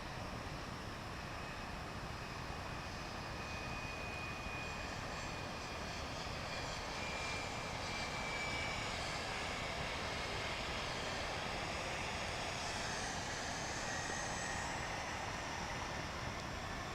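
A passenger airplane on a short flight from Killeen comes in to land at DFW International Airport, a steady, broad engine roar that holds for the whole stretch with a faint whine on top, no talk over it.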